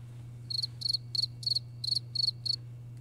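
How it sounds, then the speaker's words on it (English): A soundboard cricket effect plays a regular series of seven short chirp bursts, evenly spaced over a steady low hum, with no talking. "Can you play that cricket sound, please?"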